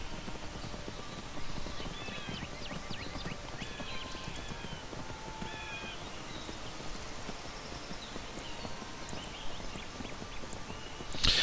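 Horse hooves clip-clop steadily through Skyrim's landscape in a continuous, fairly quiet rhythmic stream, with occasional faint higher game sounds above the trotting.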